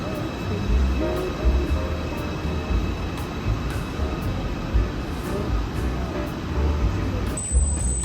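A train at a station in Germany sends a steady, loud rumble and hum through the whole stretch, with faint rhythmic ticking above it and a brief high tone near the end.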